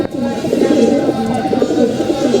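Pigeons coo close by in a steady, overlapping murmur of soft throaty calls that continues without a break.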